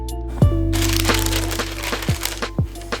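A cardboard shoe box holding Jordan 1 Mid sneakers is opened up close, with crackling and crinkling of cardboard and paper in several short, sharp bursts.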